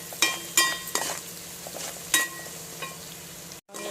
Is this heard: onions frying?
yes